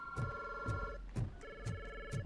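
A telephone rings in the video game Robocop Rogue City, five evenly spaced electronic ring bursts repeating in a steady rhythm, clear and alone.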